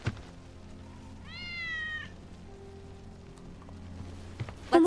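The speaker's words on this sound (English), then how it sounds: "That's Wedge's cat." Wedge's cat in Final Fantasy 7 Remake lets out a single clear, drawn-out meow midway, fairly close and alone over quiet low game ambience, with a faint thump at the start and end.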